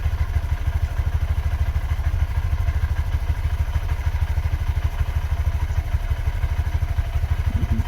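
A Honda CB125F motorcycle engine idles close by, a fast, even low putter that stays steady and loud throughout with no voices.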